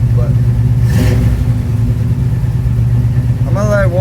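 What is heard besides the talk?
Chevrolet Nova engine idling high while cold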